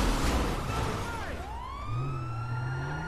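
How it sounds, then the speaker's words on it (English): Police car siren in the video game GTA V, a wailing tone that sweeps down and then rises again, loud and close over engine rumble and street noise, with no talking. "Well, he did have his sirens on."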